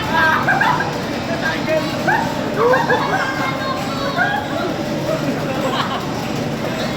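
A dog barks and lets out high, whimpering yips amid a noisy background of people talking and shouting.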